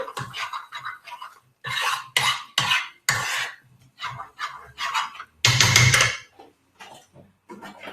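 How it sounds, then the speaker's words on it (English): Repeated scraping and stirring strokes in a bowl, a spoon working through thick food in short bursts with brief pauses between. "let's just mix this through"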